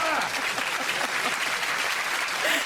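Steady applause from a crowd, dense and continuous throughout, with a voice faintly present beneath the clapping.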